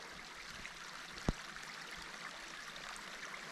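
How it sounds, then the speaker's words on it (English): Steady broadband rush of a creek flowing in front of a waste rock pile at an old mine in Paragon Gulch, a constant wash of water with one brief knock partway through and no voices. "Right in front of a creek."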